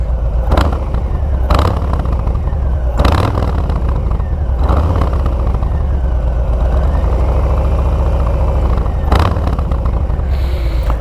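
A 2021 Harley-Davidson Street Bob with S&S Grand National slip-on exhausts idles with a deep, loud, steady rumble, close by, punctuated by several sharp throttle blips.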